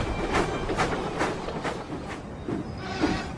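A small steam engine, Thomas, puffs along the rails in a steady rhythmic chuff with clickety wheel sounds, moderately loud and continuous, no voices.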